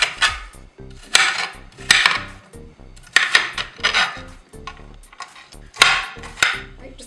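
Half an onion chopped with a knife on a cutting board: irregular clusters of sharp, close taps and knocks, several quick strokes per burst with short pauses between, no talking.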